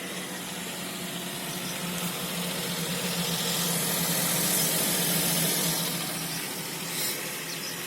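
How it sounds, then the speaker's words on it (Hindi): A Maruti Alto car engine idling, heard from outside the car: a faint, steady low hum and hiss with little variation, no talking over it. "तो अभी कार का इंजन स्टार्ट है और मैं बाहर से सुनाता हूँ कि बाहर से कितनी साउंड आती है।"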